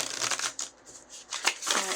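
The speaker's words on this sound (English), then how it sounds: "I want to shuffle one more time." A deck of tarot cards being shuffled up close, with a few quick papery riffling bursts separated by short pauses.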